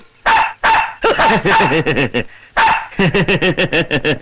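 A dog barking loudly and close by, with sharp single barks followed by fast, excited runs of repeated yips and bow-wows, broken by a short pause and then another rapid burst.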